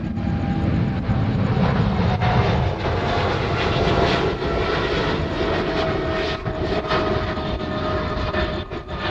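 A fighter jet roars in to land at Honolulu airport at night. The loud, broadband engine noise holds steady throughout, with no talking.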